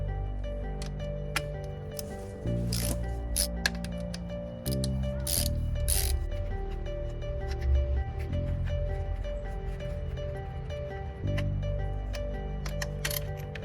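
A ratchet clicks repeatedly as it backs out two 10 mm bolts from the injector cover of a Mitsubishi 3000GT VR4, close up and mechanical, in steady runs with short breaks and no talking.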